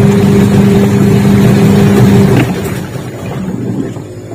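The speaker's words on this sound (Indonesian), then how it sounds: "Kita coba nyalakan mesin cucinya di bagian pencucian" A washing machine runs in wash mode after a gearbox replacement, giving a loud, steady motor hum with a tonal whine that cuts off partway through, leaving a softer churning rumble.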